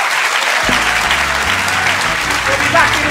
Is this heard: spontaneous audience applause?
yes